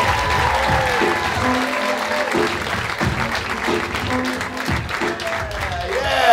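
A comedy club crowd in Madison claps loudly and continuously for a stand-up comedian, with whoops and cheers mixed into the applause and someone talking over it throughout.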